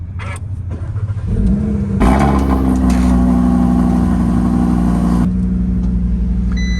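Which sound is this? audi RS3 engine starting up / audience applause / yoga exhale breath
audi RS3 engine starting up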